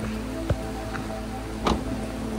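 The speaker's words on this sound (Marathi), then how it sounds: "रिमझिम पडणारा पाऊस आणि प्रचंड पडलेले धुकं याचे दर्शन आपल्याला इकडे पाहायला मिळाले" Light drizzling rain falls near Kumbhe waterfall in Maharashtra amid thick fog, a soft, steady hiss of fine drops with a couple of faint taps standing out, no voices.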